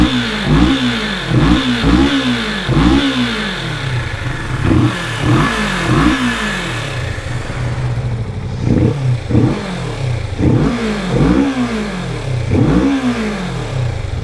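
A Kawasaki Vulcan S 650 motorcycle on its stock exhaust is revved repeatedly up close, about a dozen quick throttle blips rising and falling in rhythmic bursts over a steady idle, with a short pause midway.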